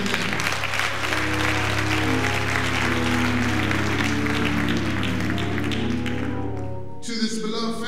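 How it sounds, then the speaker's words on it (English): A Baptist church congregation in Simpsonville, South Carolina claps in praise at a memorial celebration, a steady loud wash of hand claps over sustained organ or keyboard tones that fades near the end. "Give God a hand clap of praise."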